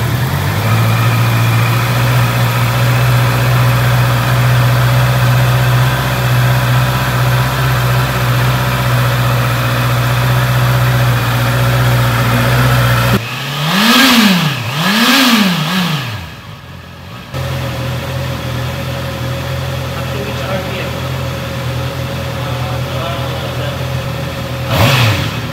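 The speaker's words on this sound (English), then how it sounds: "So a massive shout out to the new owner of the CBR 650R 2023 model. And this is the sound check." A 2023 Honda CBR650R sport motorcycle idles loudly and steadily up close, breaks into two sharp throttle revs that climb and fall, then settles back into its even idle.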